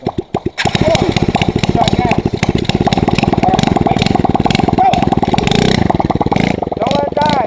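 A Coaster 110 pit bike engine runs loud and close throughout a lap on bald tires, a steady buzzing drone with rhythmic pulses and brief revving swells, while voices talk over it.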